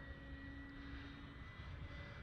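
A Carbon Z Cub SS radio-controlled plane flies at half throttle, a faint, steady engine drone with a constant hum from a distance.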